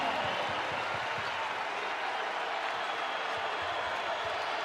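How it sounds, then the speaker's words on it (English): A college basketball arena crowd during a Vanderbilt versus Missouri NCAA men's game roars in a broad, sustained wash of cheering and applause, loud and unbroken throughout. "Again, the crowd comes alive."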